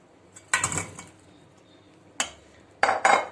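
Chopped potatoes tumble into a metal pot in three short clattering bursts, with brief quiet gaps between them.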